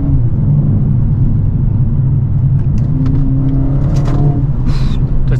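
Mercedes CLA45S AMG turbocharged car accelerating hard, a loud, steady low engine rumble and whir sustained throughout, with no talk over it.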